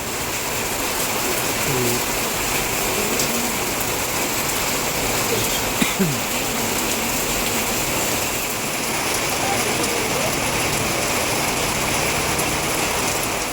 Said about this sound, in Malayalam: നല്ല അപാര തണുപ്പ് നല്ല മഴ കേട്ടോ